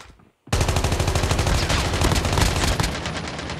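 An AK117 fires a sustained burst of rapid automatic gunfire in Call of Duty Mobile after a short quiet opening, loud and dense with evenly spaced shots continuing to the end.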